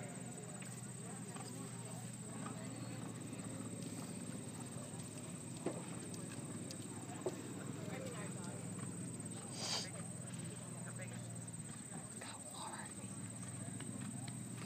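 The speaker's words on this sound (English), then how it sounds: "Six-year-old Canadian sport horse gelding." Faint, steady clip-clop of a Canadian sport horse gelding's hooves on a hard surface at a novice dressage event, beneath a constant hum, with occasional distant talk.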